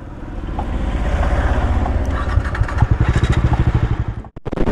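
A heavy motorcycle engine runs loud and close, rising into a rough, pulsing throb before cutting off briefly near the end and picking up again.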